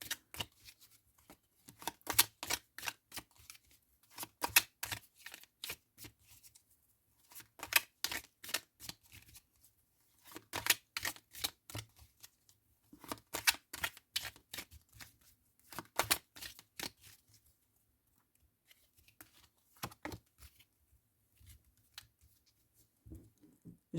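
A tarot deck being shuffled by hand produces repeated rapid riffling bursts of crisp card flutter, close and fairly quiet, in several rounds separated by short pauses.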